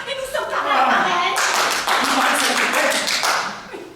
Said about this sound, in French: j'applaudis